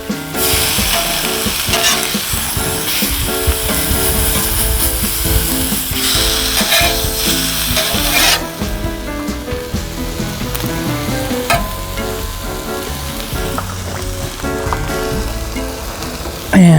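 Pulled pork and Costco dill pickles sizzle steadily on a Blackstone griddle for a Cubano sandwich, a loud, continuous crackling fry with no talking.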